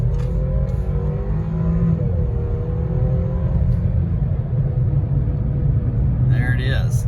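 A 2019 BMW 530i xDrive accelerating hard out of a turn from a standstill, a loud, steady low engine rumble building and holding throughout.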